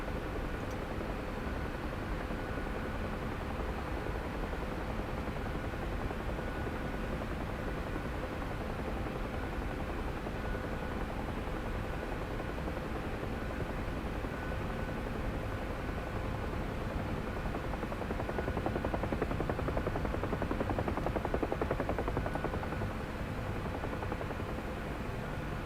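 Simulated UH-1 Huey helicopter in DCS climbing at night, a steady dense rotor and turbine roar holding constant throughout, swelling slightly louder near the end, with no voices.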